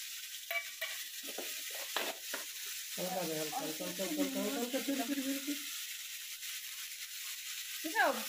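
Chicken pieces sizzle and are stirred in a pan with ginger and ground pepper, a moderate frying hiss with scraping stir strokes near the start, while a voice talks in the middle.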